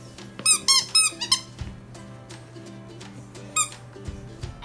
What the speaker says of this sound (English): He loves squeak toys, though.